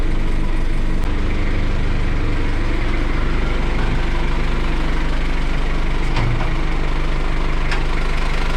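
Engine of a 2005 Mazda car runs with the hood open, a loud, close, steady rumbling idle with a throbbing low drone and occasional ticks.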